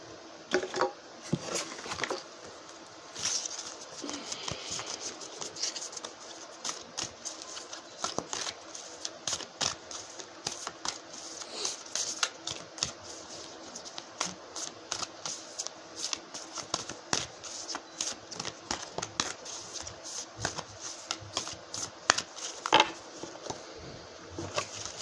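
A deck of tarot cards being shuffled during a reading, with repeated soft riffling and patting bursts at an irregular pace that goes on for a long stretch, fairly quiet and close, with little talking.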